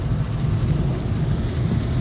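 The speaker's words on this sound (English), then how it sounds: "It is pouring down rain." Heavy rain pouring onto a moving car, a steady dense roar with low rumbling road and cabin noise throughout, loud and continuous with no talking.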